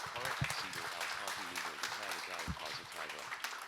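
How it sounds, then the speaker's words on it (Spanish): An audience at a university forum applauds to welcome a psychologist to the stage, scattered clapping running under a speaking voice throughout. "Y le damos el aplauso y la bienvenida a la psicóloga Katia Echeverría Vélez."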